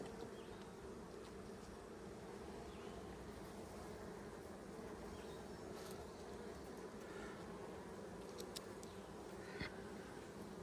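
Steady, dense buzzing of honeybees swarming around an open hive during an inspection, a continuous drone close by that holds level throughout with no voices.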